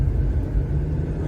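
A truck engine revving on a coastal highway construction site, a loud, close, steady low rumble that holds without a break for a short moment.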